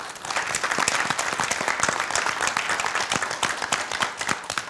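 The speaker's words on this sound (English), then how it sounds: "let's give Jungmin a big round of applause" An audience gives a contestant a full round of applause on a competition show, a dense wash of many hands clapping at moderate level from start to finish.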